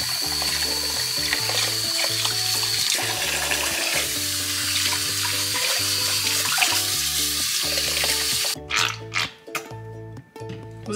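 Water runs from a tap steadily while golden retriever puppies are bathed, a continuous rushing stream that stops near the end, leaving brief splashes and drips.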